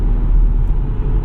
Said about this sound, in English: Just cruising now, lifting off the accelerator.